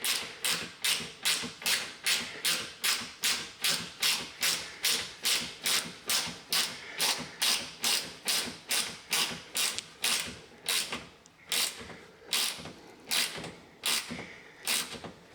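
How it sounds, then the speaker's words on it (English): Hand screwdriver turning a screw to join kitchen cabinets, a rapid rhythmic series of sharp ratcheting clicks about twice per second, close and clear, becoming slightly irregular toward the end. "on this side we can screw that in. We can then tighten that up."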